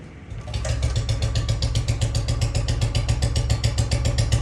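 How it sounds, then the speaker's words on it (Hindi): A Royal Enfield Bullet fitted with a heavy sound kit starts and runs unevenly, its loud, close thumping exhaust pulses steady but missing and failing to rev up. "देखो स्टार्ट हो रही है लेकिन रेस नहीं पकड़ रही, देखो मिसिंग मार रही है।"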